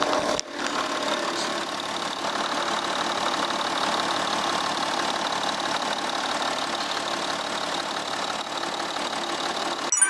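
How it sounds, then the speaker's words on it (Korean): A steady, smooth idle from a Volkswagen Touareg V6 3.0 TDI diesel SUV engine hums evenly throughout, close and fairly quiet, with no voices. "이렇게 차량 내려서 투아렉 차량의 엔진 소리 한번 들어보겠습니다"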